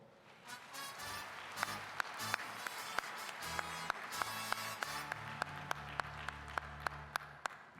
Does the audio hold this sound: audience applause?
yes